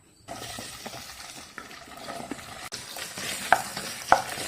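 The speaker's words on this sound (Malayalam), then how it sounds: "ചൂടായ പാനിലേക്ക് നമുക്കൊരു 2-3 സ്പൂൺ എണ്ണ ഒഴിച്ച് ആദ്യമേ നമുക്ക് ഈ വെണ്ടയ്ക്ക ഒന്ന് വഴറ്റി മാറ്റാം." Okra sautéing in two to three spoons of coconut oil in a hot pan, a steady close sizzle with occasional stirring clinks and two sharper scrapes near the end.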